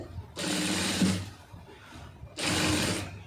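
A sewing machine stitches the piping on a blouse lining in two bursts, a steady whirring run followed by a pause and then a second run, close by.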